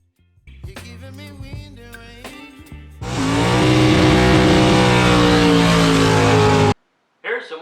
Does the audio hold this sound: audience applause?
no